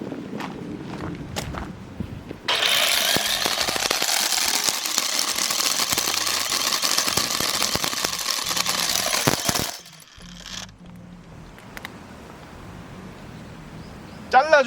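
A cordless ES BC54S brush cutter cuts grass, a loud steady whine with rough rattling for about seven seconds between quieter stretches, ending as the motor winds down.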